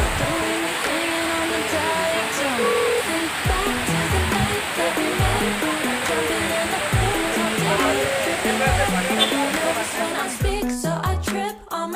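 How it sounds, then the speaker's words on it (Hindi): Roadside waterfall at Amboli Ghat pouring in heavy rain, a steady loud broadband roar that fills the whole clip, with a few bumps and handling noises near the end. "देख लो कितना अच्छा वाटरफॉल है"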